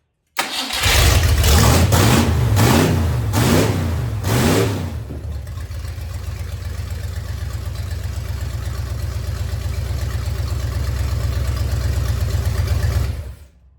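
A junkyard-sourced Ford FE V8 cranks in several rhythmic bursts for about four seconds, then catches and settles into a loud, steady, lumpy idle that runs alone until it cuts off near the end.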